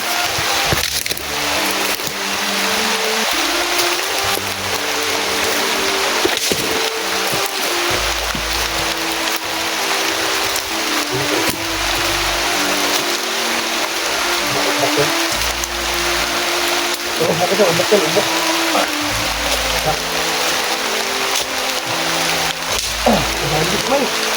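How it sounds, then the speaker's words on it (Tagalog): Steady, dense rain roaring continuously, with people talking intermittently over the downpour. "Sobrang lakas na yung ulan mga kaidol."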